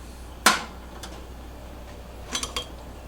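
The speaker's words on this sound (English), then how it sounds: "we'll simply get our little magnetic wand right here. And we'll put our lid on" A metal canning lid set onto a hot jar of honeysuckle jelly with a magnetic wand gives one sharp, bright clink, followed a couple of seconds later by a few lighter metallic taps, close by in a quiet room.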